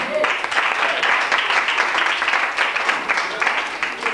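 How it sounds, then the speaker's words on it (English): Club audience applauding a performer on stage at a live show, a dense, steady wash of clapping that stays loud and even throughout with no voices standing out. "Give him another round of applause."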